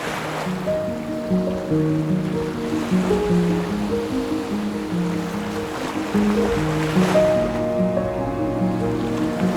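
Surf washes steadily onto a beach in Olympic National Park, a continuous broadband roar under a layer of tonal music.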